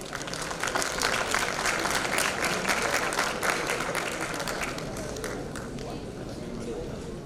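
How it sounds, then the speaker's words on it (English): Conference audience applause fills the hall, steady dense clapping from many hands that stays loud for several seconds before tapering slightly toward the end. "I want everyone to give a big round of applause"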